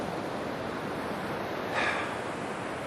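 Ocean waves wash in a steady, broadband rush with no distinct breaks, one slightly louder surge near the end, heard alone without voices.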